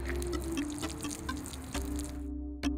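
Water poured by hand onto freshly sown seeds on scratched outdoor ground, a soft steady splashing and trickle close by that cuts off near the end, with no talking.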